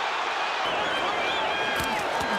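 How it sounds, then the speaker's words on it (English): Boxing arena crowd roars in a dense, sustained wash of cheering and shouting, loud and continuous with a few bursts of clapping near the end. "The crowd going nuts here, seeing Foreman score."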